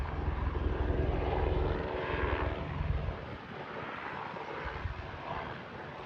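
A propeller airplane engine drones steadily and loudly near an airport, a broad continuous roar with wind buffeting the microphone, easing slightly in level after about three seconds.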